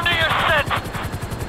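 A helicopter hovers in Grand Theft Auto V, its rotor beating in a fast, steady low thump throughout, with a voice speaking over the first half.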